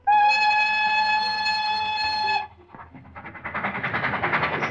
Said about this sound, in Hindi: सुना तुमने, रेल की सीटी ने शहनाई का काम कर दिया